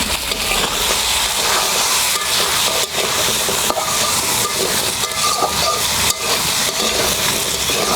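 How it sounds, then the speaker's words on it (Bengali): Potato and kohlrabi pieces lightly frying together in oil in a pan, giving a continuous loud sizzle and crackle with occasional scraping as they are stirred. "আলুর সাথে ওলকপিটাকে হালকা ভেজে নেব"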